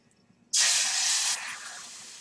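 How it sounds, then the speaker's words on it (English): A sudden loud, broad hiss erupts as pork loin hits a very hot pan and holds steadily, then eases to a softer continuous sizzle. "you stick the meat in there and it starts to sizzle"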